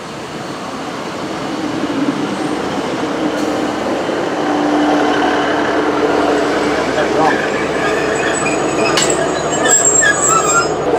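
A Class 150 diesel train rumbles into Marsh Barton station in Devon and slows, wheels squealing and brakes hissing, with a constant roar of rail noise and some chatter around it.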